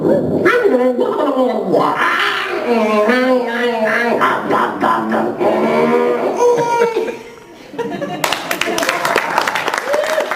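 A voice actor imitates a barking, slurring dog, Bodie from the Garfield cartoons, at a convention panel, producing a run of rough, voiced bark sounds before crowd applause swells near the end.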